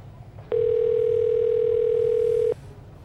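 Telephone ringback tone on an outgoing call, a single steady electronic tone held for about two seconds over faint room hiss.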